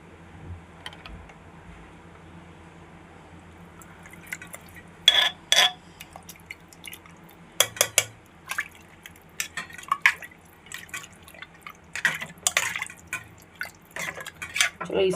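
Ghee going into fatty beef in a cooking pot for pulao, with scattered drips and light clinks of a spoon against the pot, sharper bursts clustered after a quiet start.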